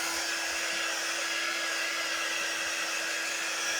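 A heat tool or hair dryer blows loud and steady to dry a craft project before a transfer goes back on. The airflow is a dense, unbroken roar with a high whine, alone and close throughout.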